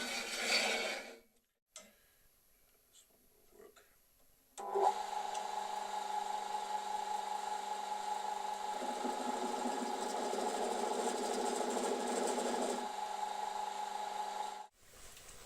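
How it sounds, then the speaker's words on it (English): A lathe parts off a turned piece that had been reverse-mounted on a glue block; after a few quiet taps and brief handling noises, a steady whirring cut runs for about ten seconds before stopping abruptly. "I try to part it off without touching the finished bottom."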